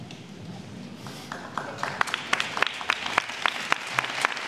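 Clapping from an audience at a Coldwater High School National Honor Society induction ceremony, given for the members' parents, starts sparse and swells into steady, fairly close applause.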